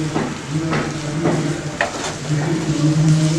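Sliced onions fry in a pan for mutton chukka, a loud, steady sizzle with intermittent stirring scrapes and a faint continuous hum behind.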